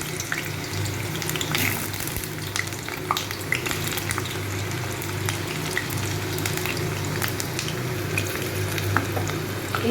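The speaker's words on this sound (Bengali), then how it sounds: "এই আলুগুলোকে একটু লাল করে ভেজে নেব।" Large potato pieces fry in hot oil, a dense, even, crackling sizzle that runs unbroken and close with occasional small pops.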